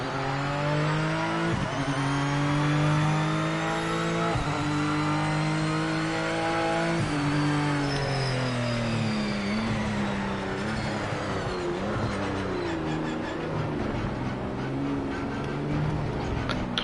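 Race cars in the video game Project Motor Racing drive past a pit lane exit, their engines loud and close, climbing through gears in repeated rising whines with short shift breaks, while faint tire noise runs underneath.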